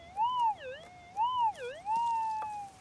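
A gold-prospecting metal detector in the Victorian goldfields gives a warbling tone that rises and dips twice, then settles into a steadier held pitch, heard close and clear with no talk.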